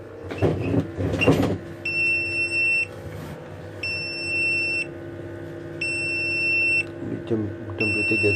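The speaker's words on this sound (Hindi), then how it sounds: "टेम्परेचर जैसे ही इंक्रीज़ करेगा तो ये इसका अलार्म चला जाएगा।" A temperature alarm on a 24-egg incubator beeps in four evenly spaced, one-second tones, loud and piercing, with a voice briefly at the start.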